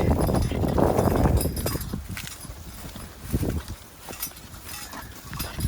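Horse hooves clopping at a walk over soft ground, with a Pioneer riding turn plow working along behind, wind gusts rumbling over the outdoor scene.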